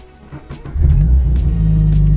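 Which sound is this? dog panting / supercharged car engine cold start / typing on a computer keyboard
supercharged car engine cold start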